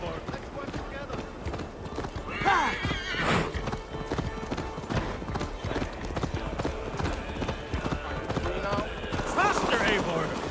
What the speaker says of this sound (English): Faster, Eivor! Ride like Sleipnir's hooves! Your horse is slow, and her rider's drunk.